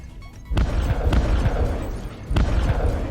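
A missile launches in the video game Breachway with a deep booming blast followed by a sustained rumbling roar, with a second heavy thump near the end.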